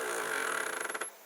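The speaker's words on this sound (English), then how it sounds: "You can hear the vibration there because the steps are stepping round." The stepper motor in a fish fry feeder runs in a box, a close buzzing whine that breaks into a fast pulsing rhythm of vibrating steps before it stops abruptly.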